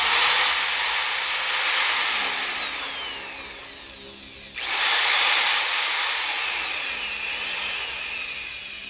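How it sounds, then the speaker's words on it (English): A power drill whines at high pitch as it bores into a wooden pipe blank, winding down, then starting again for a second run; loud and close, no talking. "You got to go in and pull the drill bit out and bring the wood out so you don't get stuck."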